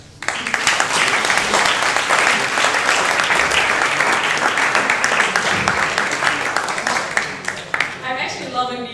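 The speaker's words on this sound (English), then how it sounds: "I'm actually loving the real life applause again" An audience at an Astronomy on Tap science talk breaks into dense, sustained applause for the speakers, loud and steady before tapering off at the end.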